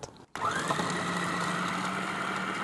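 A Beko food processor grinds toast bread, starting abruptly after a brief pause and running as a steady, loud whirring motor.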